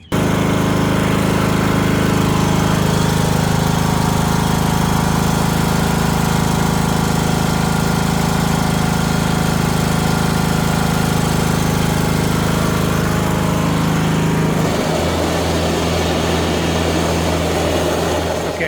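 A riding lawn mower with a newly replaced belt runs loudly and steadily close by, a droning engine with a constant hum, then shifts to a lower, rougher tone near the end.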